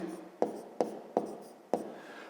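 Pen or pencil writing numbers on paper, four short scratchy strokes at a steady rhythm, close and fairly quiet, with no talk.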